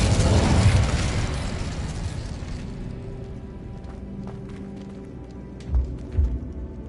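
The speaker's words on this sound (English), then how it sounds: "Incendio!" The Incendio fire spell bursts in Hogwarts Legacy with a loud, roaring blast of flame that fades over several seconds, followed by a couple of low rumbling thuds.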